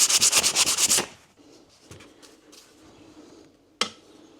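Sandpaper, around 120 or 220 grit, scrubs in about eight quick, even back-and-forth strokes close by. Fainter scattered rubs follow, then a single sharp knock.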